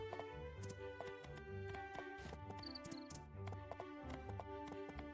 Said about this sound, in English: Having a well-trained horse really makes getting around so much more pleasant.